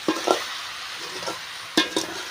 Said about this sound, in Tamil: கத்திரிக்காய் முருங்கைக்காய் ரெண்டு பேரும் பார்த்தீங்கன்னா எண்ணெயிலே நல்லா வதங்கிடுச்சு